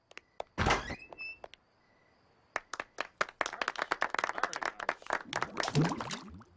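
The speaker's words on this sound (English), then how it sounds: "If you'll just open that door, you'll see the next mayor of Springfield." A door is opened with a solid thunk and a brief squeak, then a burst of clapping and applause spreads out, loud and close, with no talk over it.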